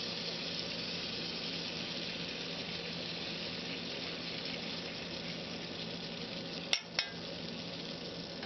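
Chicken spread across a hot skillet hisses in a steady, even sizzle that holds for the whole stretch, broken by a couple of sharp clicks or taps near the end, with no talk.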